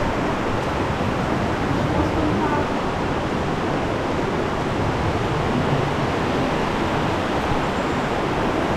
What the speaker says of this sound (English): It's not very deep, but it is fast.